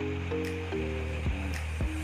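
Chicken intestines for crispy fried usus are stirred and squeezed by hand in a bowl, giving a few soft, wet squelching squishes in slow succession, close and moderately quiet, with a low tonal hum beneath.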